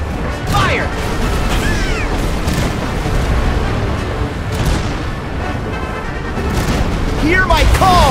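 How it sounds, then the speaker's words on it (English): Pirate ship cannons fire during a sea battle in Kingdom Hearts 3, with repeated heavy booms and crashing impacts over a continuous roar of combat, loud, with whooshing effects and voices in between. "Cannons!"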